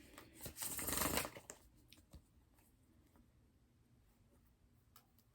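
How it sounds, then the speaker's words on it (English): Osho Zen tarot deck being shuffled, a dense burst of riffling card noise for about a second near the start, then scattered light ticks and taps of cards over a quiet background. "I have the Osho Zen deck, and I really want to pull a few cards to get started with this message."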